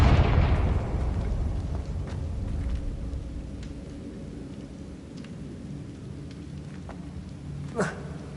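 A Confringo fire-blast spell explodes in the Hogwarts Legacy video game, a loud booming burst at the start that rumbles away into a long noisy tail, with a sharp crack near the end.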